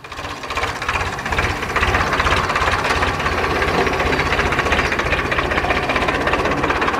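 Tractor engine running, a close, steady, thumping diesel rhythm with rattling knocks that holds at a constant level, no voices over it.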